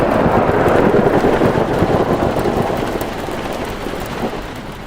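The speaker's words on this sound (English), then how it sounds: "the storm had picked up so hard" A heavy thunderstorm roars around a car on a road at night, a dense, loud wash of rain and rumbling thunder that slowly eases in strength, with no voices.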